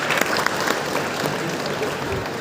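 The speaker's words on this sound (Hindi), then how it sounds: "और उनके लिए भी एक बार तालियां बजाएंगे।" An audience claps for a railway employee retiring after 41 years of service: a steady, moderately loud burst of many hands applauding together, with a few sharper claps standing out near the start.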